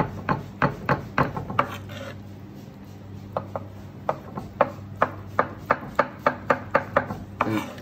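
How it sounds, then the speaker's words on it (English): Knife chopping cooked vegetables on a board alongside ham hock: a steady run of sharp, close chops, a few quick strikes then a longer regular series, with no talking. "Roughly chop these up."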